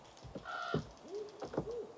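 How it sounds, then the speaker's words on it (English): Soft owl hoots from a video game sound a few times in a quiet, slightly noisy setting, low and mellow with no one talking. "Owls are making the owl sound."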